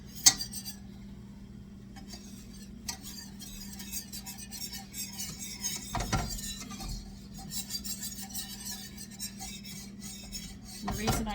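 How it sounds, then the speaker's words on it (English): A whisk stirs pork chop gravy in a pan, giving a steady faint scraping and clinking of metal against the pan, with a few sharper knocks and no talking. "The reason I use a whisk, because the whisk makes sure you don't get lumps"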